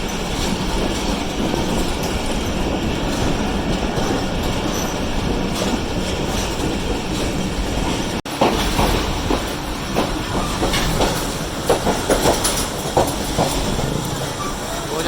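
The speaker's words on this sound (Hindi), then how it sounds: "टंडो आदम में अराइव कर रहे हैं 48 डाउन रहमान बाबा एक्सप्रेस" The 48 Down Rehman Baba Express passenger train runs on track arriving at Tando Adam, a loud steady rumble of wheels and carriages with rhythmic clicking joints and occasional squeals growing more pronounced in the second half.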